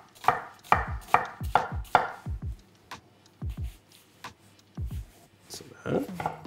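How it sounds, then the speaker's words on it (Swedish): Knife chopping onion into small pieces on a cutting board while cooking Jansson's temptation: a run of crisp, rhythmic knocks, close and fairly loud, then a few slower scattered chops, with no talk over them. "Så då tar jag och hackar löken i lite mindre bitar."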